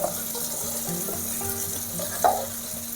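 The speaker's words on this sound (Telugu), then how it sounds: "మునక్కాడలు వేసేసుకుందాము ఒక్క నిమిషం పాటు ఇవి కొంచెం ఆయిల్లో ఫ్రై అవ్వనిచ్చి" Moringa drumsticks fry in hot oil for a prawn curry, a steady close sizzle with a few brief clinks and stirring sounds.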